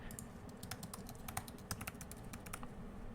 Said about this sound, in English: Let me type the password here.